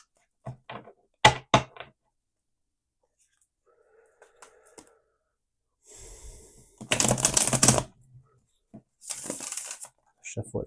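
Tarot cards are shuffled by hand in a few short bursts of riffling and flicking with quiet gaps between, the longest burst near the end, with faint rustles in between.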